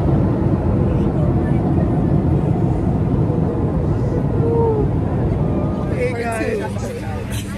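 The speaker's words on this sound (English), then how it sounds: "Guys, we're on the plane." Inside a passenger airplane cabin after boarding, a loud constant engine and air roar fills the space while a voice speaks softly beneath it.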